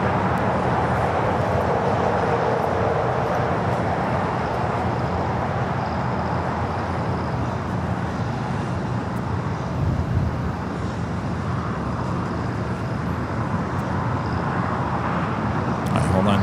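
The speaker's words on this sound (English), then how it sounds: "the American 777 and now rolling down at 25 at right" A 25-year-old American Airlines Boeing 777-200ER rolling for takeoff at Los Angeles International Airport, a continuous broad engine rumble and roar that holds steady from a distance throughout.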